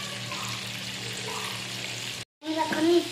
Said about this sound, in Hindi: मसाले लग चुका, अब हम इनको करेंगे फ्राई।